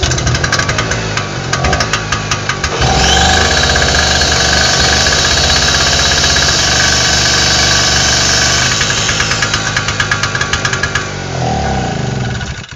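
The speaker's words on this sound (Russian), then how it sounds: "Как видите, генератор работает, инструмент работает" A 1 kW petrol generator runs loudly with a power tool connected, a steady close engine roar with a rattling, knocking texture; the tool's whine swells in partway through and drops away near the end, with no talking.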